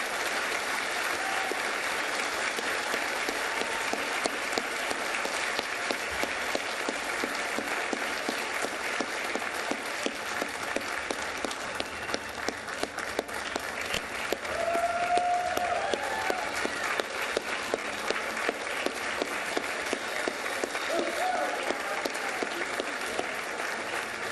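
Steady, sustained applause from a large audience at an awards ceremony fills the space, continuous clapping with no pauses.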